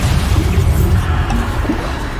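A Bombarda blasting spell going off in Hogwarts Legacy, a dense low booming rumble that fills the whole stretch with steady loudness, with a couple of brief crackling bursts and no pauses.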